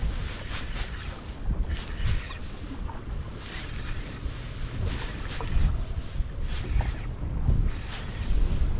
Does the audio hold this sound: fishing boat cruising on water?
yes